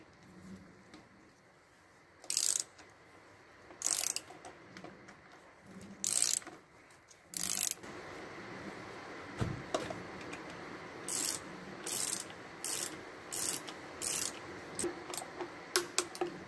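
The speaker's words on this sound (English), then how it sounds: "Start torquing these things down." A ratchet wrench torques down bolts on a Range Rover, its clicking sounding in short separate bursts with pauses between, then in quicker runs of clicks toward the end, close and fairly quiet.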